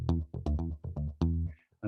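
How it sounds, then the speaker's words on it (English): A retro funk bass loop in Soundtrap thumps out short, punchy, syncopated notes in a bouncy rhythm, fairly quiet and alone. "And the one I'm going to choose to use is bass retro funk,"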